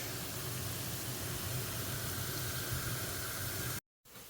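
Eggs with fenugreek cook in a pan, giving a steady loud sizzling hiss that runs unbroken, then cuts to silence briefly near the end before resuming.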